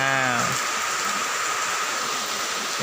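Light rain falls outdoors as a steady, even hiss that fills the whole stretch, with a brief humming tone fading out in the first half-second.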